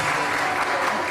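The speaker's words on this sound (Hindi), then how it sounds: "बहुत सारी तालियां जी दोनों के लिए।" Studio audience on a television makeup show clapping in a dense, steady burst of applause, close and even throughout the short moment.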